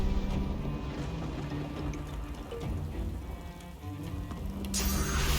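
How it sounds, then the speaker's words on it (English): A rain spell in the fantasy role-playing game Divinity: Original Sin II makes a steady, hissing downpour that brightens briefly at the end. "Make it rain."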